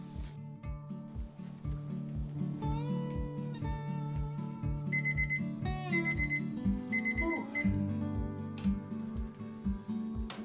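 A repeating kitchen timer alarm beeps in an even rhythm after a session of kneading pita bread dough, with musical tones running alongside it throughout.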